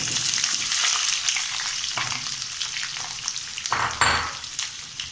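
Garlic, onions and green chillies sizzling in a hot pan, a steady close frying hiss with occasional stirring scrapes and spatters.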